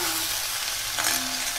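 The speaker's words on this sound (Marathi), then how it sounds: "काय चरचरीत आवाज येतात, पाणी सुकत वाटतं" Drumstick-leaf vegetable fries in an iron kadhai, giving a loud, close, continuous crackling sizzle as moisture cooks off, with a brief stir partway through and no voices.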